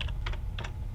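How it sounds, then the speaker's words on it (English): A computer keyboard clicks in a few quick, close keystrokes as a command is typed, with two short clusters of taps and no talking. "we're going to type in the command"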